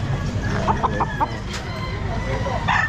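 Chickens cluck in short bursts at a busy pet market, close and fairly loud, with a brief crowing note. Background chatter and crowd noise run underneath.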